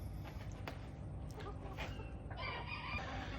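A Birchen Modern Game rooster, a male bird, crows and clucks nearby over a noisy yard background, without talk over it.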